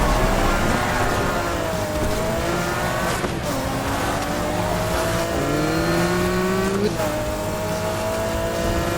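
Race cars in Need for Speed Heat roar off the start, engines revving loudly and continuously with rising gear-shift sweeps and occasional tire squeal, a dense, close engine drone throughout.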